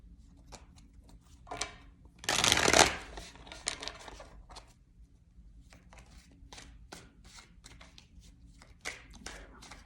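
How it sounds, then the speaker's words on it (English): Tarot cards being shuffled by hand, a loud burst of riffling near the start followed by many quick, soft card taps and slides close up. "no, I'm gonna keep shuffling"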